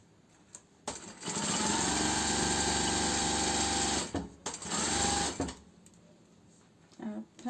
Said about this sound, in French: On enlève bien les épingles au fur et à mesure pour pas que ça passe sous la machine, pour éviter de casser l'aiguille machine.